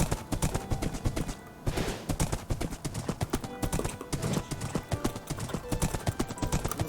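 Horse hooves clip-clop steadily in Minecraft Bedrock Edition, a loud, fast, continuous rhythm of hoofbeats with a brief pause partway through and no talk over it.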